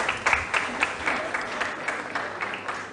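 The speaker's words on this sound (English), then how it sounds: "Ladies and gentlemen, a round of applause." Audience applause at a national school quiz championship, a steady wash of many hands clapping for about three seconds, moderately loud and fairly close, with no talk over it.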